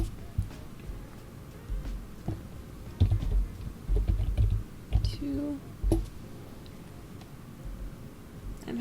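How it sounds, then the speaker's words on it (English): Computer keyboard typing during a Photoshop editing session, soft irregular clicks and bursts of keystrokes close to the microphone, with a few louder clusters midway through and a faint murmur in the background. "I'm having difficulty typing today."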